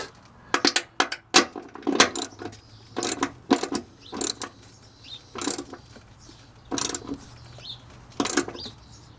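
Bolts securing an RV fresh water tank on an Alliance Avenue 32RLS travel trailer are tightened by hand with a ratchet, giving bursts of quick clicking strokes in an irregular rhythm, close and fairly loud, with no talk.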